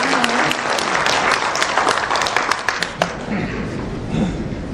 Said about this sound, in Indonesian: Kita berikan tepuk tangan pada beliau.